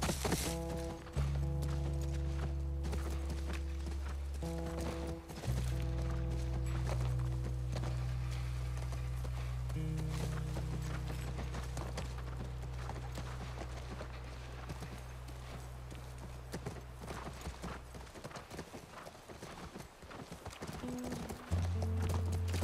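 Horse hooves clip-clop at a steady walking pace in The Last of Us video game, close and continuous over a low droning music bed, with occasional thuds.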